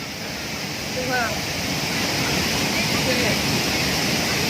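Constant roaring rush of a remote waterfall, steady broadband water noise close by, with a voice talking briefly over it.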